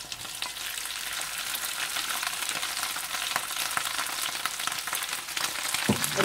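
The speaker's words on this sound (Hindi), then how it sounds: "अच्छी तरह मिर्चों को तलने के बाद आप ये बचा हुआ कीमा सारा इसमें डाल दें।" Ground keema meat frying in a pan with bell peppers, giving a steady, close sizzle and crackle with occasional stirring scrapes throughout.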